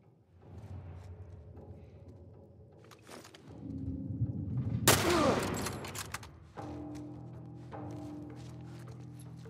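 Gunfire in The Last of Us Part 1, a burst of shots rising to a loud, dense volley in the middle against a rumbling game background, then easing back to ambient noise.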